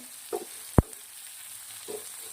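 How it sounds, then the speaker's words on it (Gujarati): Tomatoes and red chillies softening in a pan for a tomato-chilli bharta give a steady, faint hiss, broken by two soft stirring scrapes and one sharp clack of a utensil on the pan. "મિત્રો આને પાંચ મિનિટ સુધી આપણે સાંતળવાનું છે"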